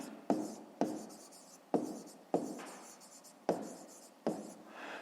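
Pen strokes on paper while writing out a math solution: six short scratchy bursts in a loose rhythm, close and fairly quiet, without talking.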